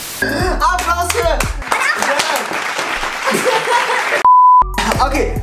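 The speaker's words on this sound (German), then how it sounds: "Applaus für..." Clapping and applause at a family gathering, a burst of hands starting near the start and running for a few seconds, followed by a loud steady beep tone and a brief return of noise.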